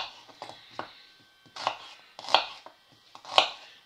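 A knife halves garlic cloves on a cutting board: a string of about eight crisp chops in an uneven rhythm, close and fairly loud, with no voices.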